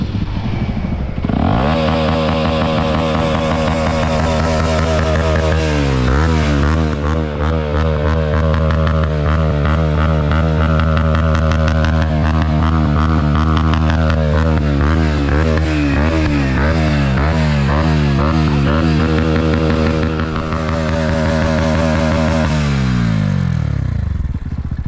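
Bajaj NS160 motorcycle fitted with an Akrapovic R1M slip-on exhaust, revving loudly and steadily up close for the whole stretch, with rising and falling throttle blips midway and a continuous raspy exhaust drone.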